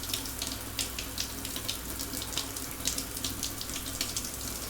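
Running water pouring steadily over a body being washed in the space survival game Stationeers, a continuous splashing hiss like a tap or shower with small irregular spatters and no voices.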